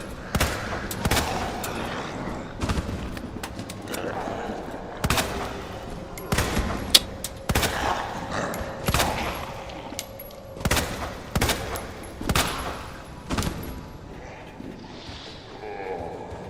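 Rapid bursts of gunfire from the Resident Evil 2 Remake video game, with repeated sharp shots in uneven clusters throughout and a voice talking faintly underneath.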